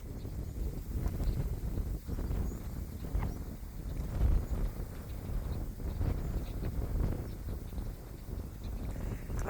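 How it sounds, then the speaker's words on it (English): Strong wind gusting outdoors at a ranch campsite in Las Cienegas near Sonoita, Arizona, ahead of a thunderstorm, a steady broadband roar buffeting the microphone with swells and a louder gust near the middle. "I know it's really windy"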